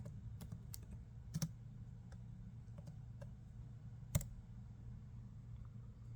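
Keys tap on a computer keyboard as a password is entered in a terminal, a sparse, quiet run of clicks with a couple of sharper strikes and a low steady hum behind them.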